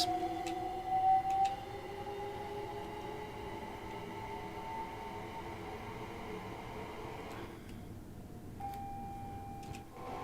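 Class 387 Gatwick Express electric train in red livery running on the London commuter route from Victoria to Brighton in a train simulator, with a steady rolling hum, tonal motor whine and a few faint clicks.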